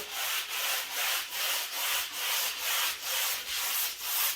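A sanding block rubs over a dried first coat of black lava decorative plaster in a steady back-and-forth rhythm, about nine even strokes, close and alone.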